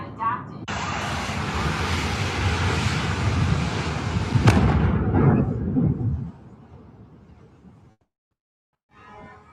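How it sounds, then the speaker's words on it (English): A loud explosion on the roof of a building under construction in Toronto, a broad sustained blast with a sharp crack partway through, fading out, while people talk and react. "something exploded"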